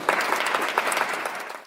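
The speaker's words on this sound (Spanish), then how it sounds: "les pido un fuerte aplauso" A short burst of applause from a conference audience greets a speaker, Doctor Horacio Cano, with individual claps audible in a fairly close, moderately loud wash that begins to fade toward the end.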